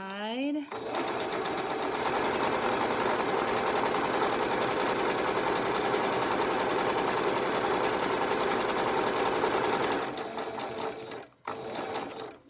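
A sewing machine runs steadily for about ten seconds as it stitches a fabric medical face mask, loud and close with a dense mechanical whir, then stops abruptly near the end.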